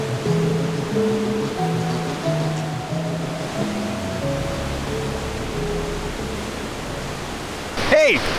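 Fast, high-running water of Clear Creek rushes in a steady broadband roar, close and continuous, with voices talking over it throughout.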